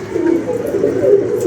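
Pigeons coo in a steady, overlapping low murmur, close and fairly loud, with no voices over them.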